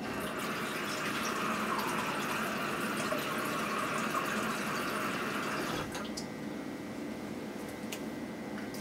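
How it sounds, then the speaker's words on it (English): Tap water runs steadily into a measuring cup in a home kitchen, a close continuous splashing stream whose tone shifts as the cup fills, then cuts back near the end. "Let's get some water."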